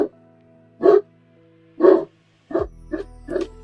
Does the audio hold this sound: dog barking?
yes